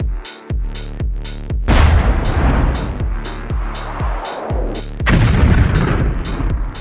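Repeated artillery shells fired from a cannon built in Minecraft with the Create Mod: about a dozen loud, close booms in steady succession, each with a sharp attack and a rumbling decay, some followed by noisy blast tails.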